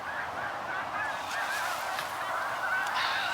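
Snow goose calls played from a Fox Pro electronic caller during a spring goose hunt in Québec, a steady chorus of overlapping honks from a large flock, fairly loud and continuous.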